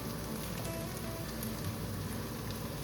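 Turmeric, chili and coriander powder sautéing in a hot pan for a Kerala-style pork fry, giving a steady, continuous oily sizzle and crackle at moderate level with no voices.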